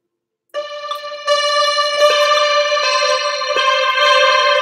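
Synthesized beat with sustained tonal layers, heavily drenched in delay and echo, entering after a short silence and thickening into a dense, loud wash of repeating notes.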